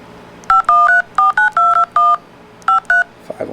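Phone keypad tones dial a business number: about ten quick, distinct dual-tone beeps in an uneven rhythm, loud and close, with a short pause before the last two, then a faint click and rustle.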